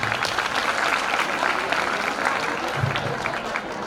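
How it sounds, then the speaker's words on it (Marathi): Students at a college annual gathering and prize-distribution ceremony clap for a drawing-competition winner, a dense crowd of hands applauding steadily for a few seconds, fairly loud with a faint voice underneath. "मुलांनो टाळ्या वाजवा."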